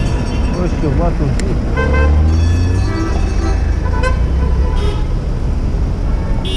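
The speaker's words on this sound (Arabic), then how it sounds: "سيبوا الطرام يعدي" Tram passing through congested Egyptian street traffic, a steady rumbling roar with car horns tooting over the crowded road while people talk nearby.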